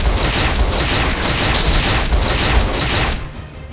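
Element Barrage attack in Octopath Traveler II, a dense, loud rapid barrage of booming, crackling impacts pulsing steadily for about three seconds before trailing off.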